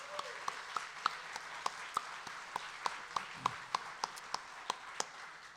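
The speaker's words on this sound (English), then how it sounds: "Let's give him a big round of applause." Scattered applause rises from a small audience at a Rotary club meeting, quiet and distant, with a few distinct individual claps standing out at an irregular rhythm.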